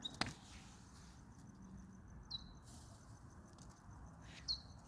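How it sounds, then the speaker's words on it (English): A bird chirps outdoors in short, sharp, high calls: one near the start, another around the middle and a last one near the end, over faint quiet background noise with no talking. "Sorry, it's just a bird."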